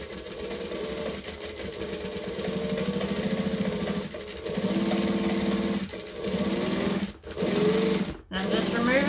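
Sewing machine running steady stitching runs on a tote bag at 2.5 stitch length, with short pauses and brief stops for backstitching, while a person talks over it.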